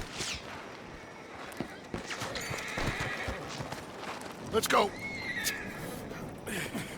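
Horses taken from a coach in Red Dead Redemption II whinny sharply and clip-clop along at a trot, hoofbeats rhythmic beneath a brief spoken line and occasional distant pops.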